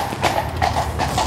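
A horse's hooves clip-clop on a hard road while it pulls a carriage. The hoofbeats come in a steady, even rhythm, close and clear, with no voices.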